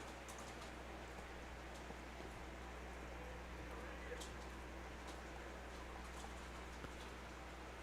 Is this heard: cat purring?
no